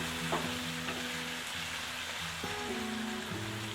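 Spices and black pepper powder for egg bhurji sizzle quietly in a pan, a soft continuous frying hiss with occasional scraping stirs and no voices.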